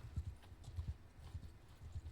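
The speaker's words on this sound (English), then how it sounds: "I'm on a horse." Horse hooves clip-clopping in a steady, fairly quick rhythm as the horse travels through an MMO video game, quiet and close, with no voices.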